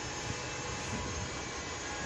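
A Los Angeles city bus on Line 3 drives with a steady, loud, broadband rumble and hiss that stays constant throughout.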